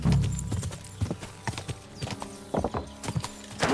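Horse hooves clip-clop in an irregular trotting rhythm in a video game, close and fairly loud, with a brief snort near the start and no talk over it.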